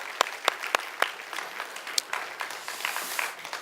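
Church congregation clapping at a Sunday Easter service, starting with a few sharp, separate claps that quickly swell into dense, steady applause filling the hall.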